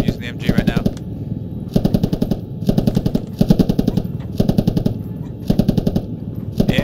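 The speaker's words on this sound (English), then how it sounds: "I'm using the MG right now" Machine gun fire in the Squad video game, loud close bursts of rapid shots repeating about every second with short gaps between them.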